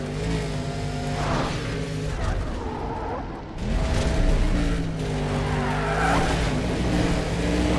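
A car in the racing game Need for Speed: Undercover skids through a corner, tires squealing in long wavering whines over a steady engine roar, loud and continuous with a brief dip midway.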